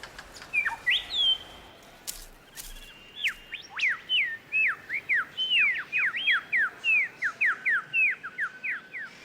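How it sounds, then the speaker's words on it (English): A superb lyrebird sings nearby: loud, clear whistles, then a long run of rapid, repeated sweeping notes in a steady rhythm, with no other sounds. "it doesn't stop the display of a very special bird. The superb lyrebird."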